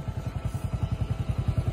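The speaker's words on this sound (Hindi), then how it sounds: "हम लोग का तो धूम मचाले बाइक है" A superbike's engine throbs while it is ridden on a road near Amer Fort in Jaipur, a fast, even pulsing beat close by and loud, with no voices over it.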